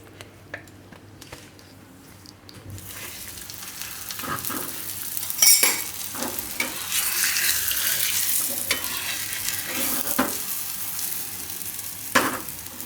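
A masoor (lentil) paratha roasts in oil on a hot griddle, giving a continuous sizzle and crackle with occasional scraping and stirring clicks. It grows louder and busier after a few seconds.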